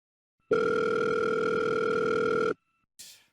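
A landline telephone dial tone plays loud and steady for about two seconds, then cuts off, followed by a brief click or hiss, with no talk.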